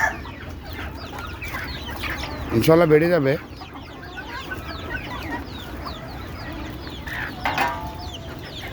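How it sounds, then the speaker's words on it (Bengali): Chickens on a small laying-hen farm cluck steadily throughout, with one louder, wavering call standing out midway and another burst near the end, while someone talks briefly over the flock. "সব মুরগি আল্লাহ দিলে মোটামুটি সুস্থ আছে"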